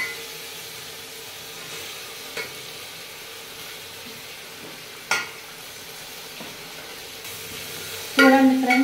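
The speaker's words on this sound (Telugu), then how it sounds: "ఇక్కడ నేను ఎండు వంకాయలని వేసి ఫ్రై చేస్తున్నాను" Dried brinjal pieces fry in a pan on low heat with a soft, steady sizzle. A few light clinks of stirring break in now and then, and a brighter scrape comes near the end.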